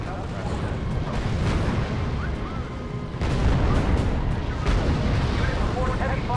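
Heavy battlefield gunfire and artillery from the strategy game R.U.S.E. rumble as a dense, continuous barrage of booms and shots that grows louder midway, with voices heard over the din.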